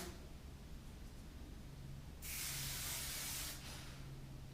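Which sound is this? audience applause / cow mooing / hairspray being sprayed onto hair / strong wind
hairspray being sprayed onto hair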